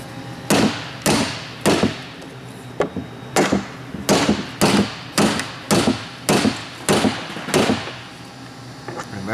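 A bottom bracket drive unit is driven down onto its seat with about twenty sharp, evenly spaced hammer blows, each a loud close metallic thud followed by a short ring.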